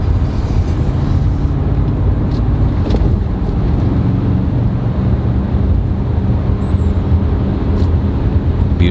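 A BMW E39 M5 accelerates on the road with a steady, loud, low engine drone and heavy wind and road rumble that continue throughout.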